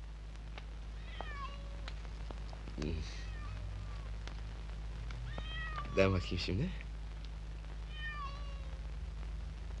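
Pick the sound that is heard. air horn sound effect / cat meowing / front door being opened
cat meowing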